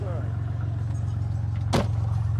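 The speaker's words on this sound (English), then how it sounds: "right now, it's just idling like your typical motor" A rat rod custom car's engine idling with a steady, pulsing low rumble close by, broken near the end by a brief sharp clatter like a door or keys.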